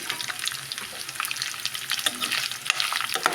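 Dried fish frying in hot oil with a spatula stirring: a continuous crackling sizzle with dense popping spatter and occasional scrapes, close and steady, no voices.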